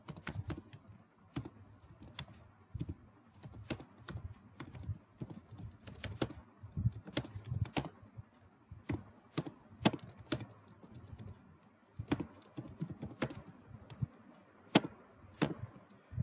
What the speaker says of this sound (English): So the URL I am typing now.